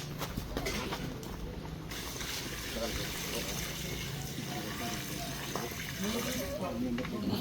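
Water runs steadily into a large cooking pot, a kawa, with a constant splashing wash and faint bird calls in the background.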